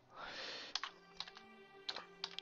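Slow, sparse keystrokes on a computer keyboard click close and quiet, a handful of separate taps after a short soft rush of noise.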